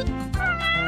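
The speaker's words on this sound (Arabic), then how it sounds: "ما الأمر أيتها القطة؟" A cartoon cat meows twice in quick succession, loud and close, with a drawn-out tonal cry after the second one. No voices are heard.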